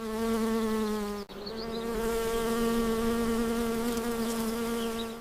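Honeybees fanning at the hive entrance to cool it, a dense, steady close-up buzz of many wings with one brief dip partway through.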